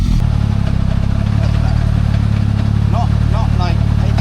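An engine fitted with someone's new turbo runs at a steady, loud idle close by, a throbbing low rumble, with a person's voice briefly heard over it.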